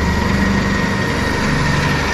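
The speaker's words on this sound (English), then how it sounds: "He's drilling through." A steady, loud power-drill whine runs without pause, a continuous high-pitched motor buzz grinding through the metal wall of a grain bin, with no voices.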